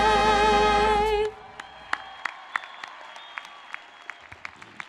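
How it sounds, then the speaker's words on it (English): Applause and cheering from a commencement audience at a university business college ceremony, starting right after a sustained sung note ends, then dense clapping with scattered sharp individual claps, close and continuous. "Another big cheer for our vocalists and our signers"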